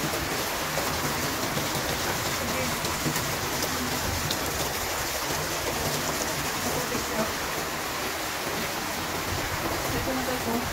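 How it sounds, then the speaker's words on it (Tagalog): Heavy rain pours down steadily, a dense, loud, continuous hiss of water striking surfaces close by, with rushing runoff mixed in and no letup throughout. "lakas ng ulan"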